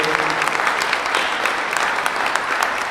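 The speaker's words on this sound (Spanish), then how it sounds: "Démosles un fuerte aplauso" Warm applause from a church congregation welcoming a couple, continuous mid-distance clapping with a few sharper individual claps standing out, sustained throughout.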